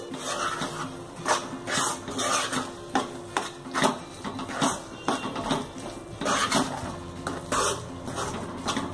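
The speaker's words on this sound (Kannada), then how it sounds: "ಇದನ್ನ ಒಂದ್ಸಲ ಸರಿಯಾಗಿ ಮಿಕ್ಸ್ ಮಾಡ್ಕೊಳ್ಳಿ." A spoon scrapes and clinks in a pan as tomato rice is mixed with masala powder, irregular stirring knocks and metallic scrapes close by, with no talk.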